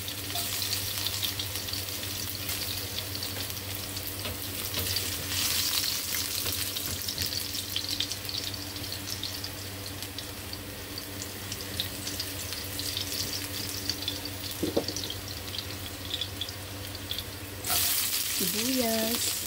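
Garlic fries in oil for Filipino pakbet with a long, steady sizzle close to the pan, occasional stirring clinks and scrapes, and a few brief louder flares toward the end.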